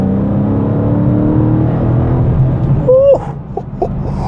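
A Dodge Challenger R/T Scat Pack engine rumbles loudly and close for a couple of seconds, then drops away as a voice exclaims over the fading sound.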